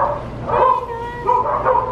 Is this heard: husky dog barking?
yes